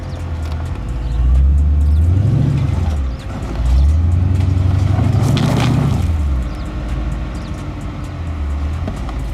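A Jeep engine revs hard off-road as its wheels spin, rising twice into a loud, straining roar and falling back to a lower rumble between the pushes.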